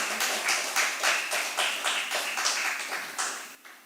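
A church congregation at a Friday worship service claps in rhythmic unison, about two claps per second, loud and close, with no talking over it.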